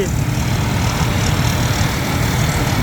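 A 20-year-old Kinnaree rice harvester's engine runs in a dense, steady roar, loud and close, with a broad rumbling hum and no voices over it.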